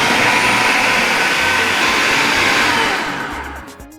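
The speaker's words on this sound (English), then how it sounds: "Now I'm going to start with processing my peppers and onions roughly" A food processor roughly chops peppers and onions for a sauce, giving a loud, steady motor whir with a dense broadband roar that winds down near the end.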